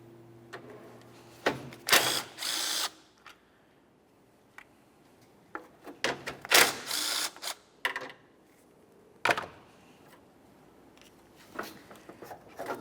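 Ratchet clicks in short bursts while 10mm headlamp mounting bolts come out of a 1994-1997 Honda Accord, close and fairly loud, separated by quiet gaps with faint handling noises.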